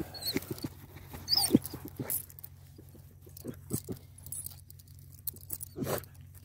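Rabbit-hunting dogs whimper and rustle in drizzly woods, soft intermittent whines and crunchy movement close by, otherwise fairly quiet.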